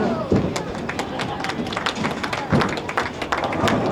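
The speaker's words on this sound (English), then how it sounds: "Another one here getting applause here." Applause at a school bowling match in a bowling alley, scattered hand claps from a small crowd mixed with dull thumps and echoing alley noise, while a commentator talks over it.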